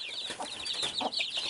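Young chickens in a cage peep and cluck close by, a rapid, continuous run of high chirps with no talking.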